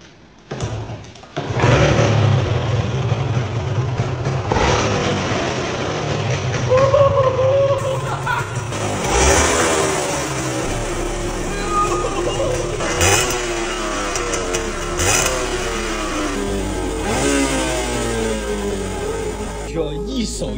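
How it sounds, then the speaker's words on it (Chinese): An old engine, fresh from a carburetor repair, catches on the first throttle and then revs up and settles into a loud, steady running close by indoors, with someone talking over it. "只要一手油门就直接着车"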